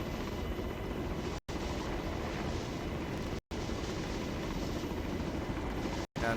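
An aircraft flying a loop in an Arma game scenario gives a continuous, steady engine and rotor drone, close and fairly even, broken by three very brief dropouts.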